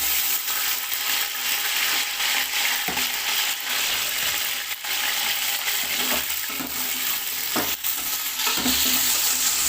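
Chicken pieces frying in hot oil for a mixed vegetable pulao, a loud, constant close sizzle broken by occasional clinks and scrapes of a ladle stirring.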